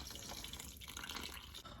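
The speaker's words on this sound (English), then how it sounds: "And now we're gonna add 250 grams of icy cold water." Icy cold water pours steadily into a mixing bowl of flour, salt and diced butter for rough puff pastry. A continuous, fairly quiet splashing stream with no talk.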